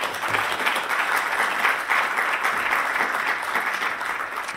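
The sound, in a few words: applause from conference audience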